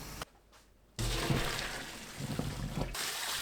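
Cold tap water runs steadily over blanched minari (water dropwort) as it is rinsed, a close, continuous splashing rush that starts after a brief quiet moment and continues to the end.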